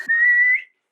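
A single clear whistle from a man in a Hindi comedy sketch, one steady sustained tone under a second long that rises slightly before cutting off, close and alone.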